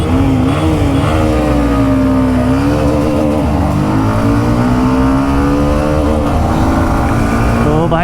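125cc motorcycles, including a TVS Raider 125, Hero Xtreme 125R and Honda CB 125 Hornet, accelerate hard in a performance test, their engines droning loud and close as the pitch rises and falls through gear changes.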